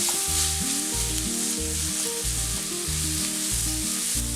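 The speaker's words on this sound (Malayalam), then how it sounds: "സവാള പെട്ടെന്ന് വഴന്നു വരാൻ കുറച്ച് ഉപ്പ് ചേർക്കാം" Onions with a pinch of salt sauté in a pan, a steady broadband sizzle running continuously beneath a rhythmic, stepped backing melody.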